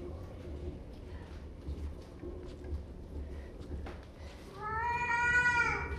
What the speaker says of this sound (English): It's the cat.